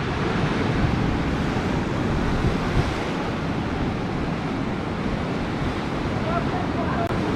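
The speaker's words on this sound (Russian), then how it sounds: "На море такой шторм, стою, аж дух захватывает, такие волны сильнейшие," Stormy sea at Anapa, with heavy waves pounding and wind roaring against the microphone in a constant dense wash of noise from the shore, loud and unbroken throughout with no voices.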